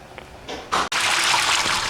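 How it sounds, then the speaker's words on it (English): Hot tap water runs and splashes through a strainer while food is rinsed in a home kitchen sink, a steady loud gush after a brief start. "I'm gonna dump them out, rinse them with hot water really well"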